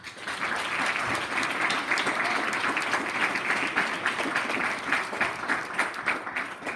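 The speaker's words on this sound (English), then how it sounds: "I think we can give them all a big round of applause" Dense, steady applause from a crowd at a primary school prize-giving ceremony, sustained and even throughout with no talk.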